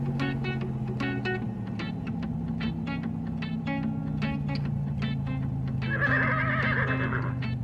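Horse neighing in a toy play scene with BRIO trains and trucks, a series of quick rhythmic whinny pulses over a low hum, moderately faint, ending in a longer higher whinny.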